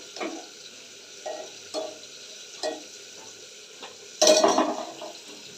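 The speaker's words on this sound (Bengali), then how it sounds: "ঢেঁড়স ভাজা হয়ে গেছে এবার এটা নামিয়ে নিচ্ছে" Okra frying in a pan on a home stove, a steady low sizzle under repeated clacks and scrapes of a spatula stirring against the metal, ending in a louder clatter as the pan is handled.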